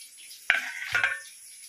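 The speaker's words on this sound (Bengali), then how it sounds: "এই যে দেখো তরকারিটা কষাই নিলাম।" A Bengali dhokar dalna curry is sautéed in a pan, with two short bursts of scraping and sizzling from stirring over a faint background hiss.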